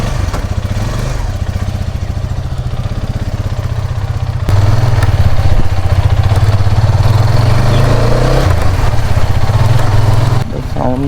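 A new Hero Karizma XMR 210 motorcycle engine chugs nearby with an even, rapid pulsing beat, then grows noticeably louder and heavier as it is revved before settling near the end.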